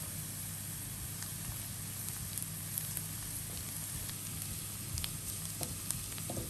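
Chopped onions sautéing in a pan for a mushroom curry give off a steady, even sizzle that holds throughout, with a low background hum and no voices.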